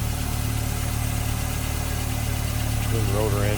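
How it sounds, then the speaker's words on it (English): A 1988 Mazda RX-7 convertible with a 1.3-liter twin-rotor engine idles steadily and close by, a constant low droning hum, with a voice briefly speaking near the end. "All right, fired it up here."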